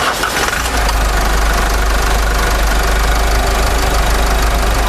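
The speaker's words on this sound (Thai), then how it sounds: "เดี๋ยวเราไปฟังเสียงห้องเครื่องกัน" An Isuzu D-Max 1.9 diesel engine in a 2022 pickup idles steadily up close, a continuous low rumble with a faint knocking texture running unchanged throughout, with no talking.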